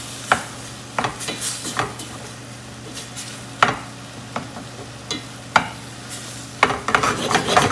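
Keema stuffing for chicken puffs is stirred in a hot pan, a continuous sizzle broken by repeated sharp clacks and scrapes of the spoon against the pan at irregular intervals, close up with no voices.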